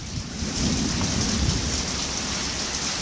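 Heavy rain pours steadily through a thunderstorm, with a low rumble of thunder swelling near the start and rolling on under the downpour; no voices are heard.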